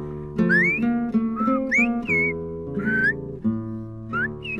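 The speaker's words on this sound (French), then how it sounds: "ils apprennent le silbo, marque de l'identité des îles Canaries" Young children on La Gomera in the Canary Islands whistle silbo, the island's whistled language, in a series of sharp rising and sliding high notes over a steady tonal musical backdrop.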